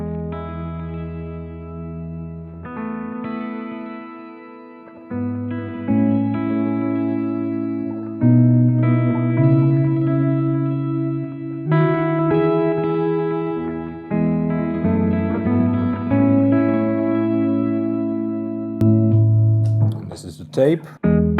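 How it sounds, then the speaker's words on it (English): Electric guitar runs through an Orca delay pedal set to a tape echo model, sustained chords and notes trailing subtle repeats, played steadily and close with a brief noisy flourish at the end. "The Orca has several delay models. I mostly use the tape echo"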